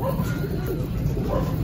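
Racing pigeons coo softly in a loft during a training session, with low, murmuring calls that blend into a dense background of ambient noise.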